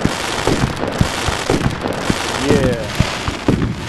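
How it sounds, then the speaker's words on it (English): Fourth of July fireworks burst in a rapid irregular series of sharp pops and bangs, with a brief whistle partway through and a short spoken word over the crackling. "You want the 4th of July fireworks? Here you go."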